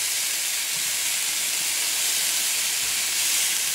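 Homemade ham sizzles in a frying pan, a steady, close, bright hiss of hot fat that holds evenly throughout, with no talking.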